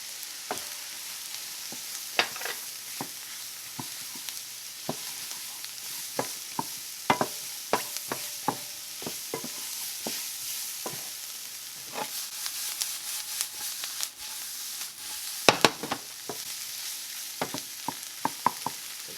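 Flour and fat sizzle steadily in a pan while cooking down to a roux for a mustard cream sauce for rabbit, a constant frying hiss punctuated by frequent sharp pops and crackles, with no talking.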